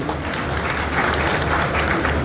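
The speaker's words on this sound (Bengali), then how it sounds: "তার জন্য একটা করতালি হবে প্লিজ" An audience at a student political event bursts into sustained, dense applause, many hands clapping together evenly for the whole stretch.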